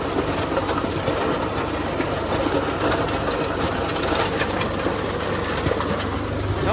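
A tractor engine runs steadily with a rotavator fitted with new blades, a loud, continuous mechanical drone and rattle close by, with no speech over it.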